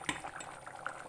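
Beef and raw banana curry in roasted ground coconut gravy simmering in a pot, with soft bubbling and faint liquid pops close up, a few louder blips standing out against a quiet background.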